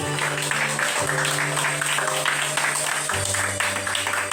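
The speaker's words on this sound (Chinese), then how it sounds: "请给自己掌声鼓励" Applause from a class of teachers and students after singing together, a steady dense patter of clapping lasting several seconds with a low sustained hum beneath it.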